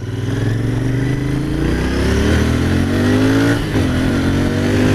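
A Royal Enfield Interceptor 650 twin-cylinder motorcycle accelerates smoothly, its loud, close engine drone climbing steadily in pitch with a short dip at a gear change, with no talking.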